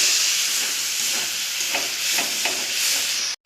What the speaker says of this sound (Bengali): এখন আলু দেবো। আলু দিয়ে কষাবো একটু।